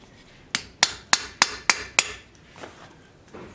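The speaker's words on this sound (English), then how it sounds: "I hammer in points that pinch the guard to the blade." Six evenly spaced metallic hammer blows ring out in a steady rhythm as a guard is pinched onto a crucible steel sword blade, followed by a few softer taps, close by with no voices.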